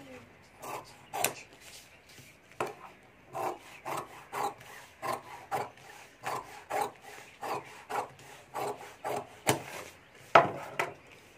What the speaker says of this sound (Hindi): ज़्यादा रबर शीट है उसको मैं कटिंग कर लेता हूँ।